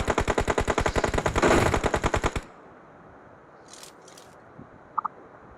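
An SLR rifle fires in a video game in a rapid, loud volley of evenly spaced shots lasting a couple of seconds, followed by a quieter background with a few small clicks.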